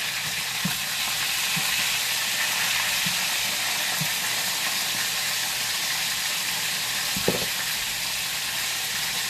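Steady bubbling and sizzling from a pan on the heat, a constant hiss with a few soft pops and clinks.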